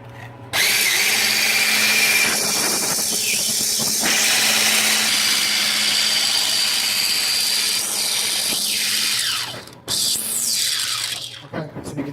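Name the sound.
beating egg yolks and sugar with electric mixer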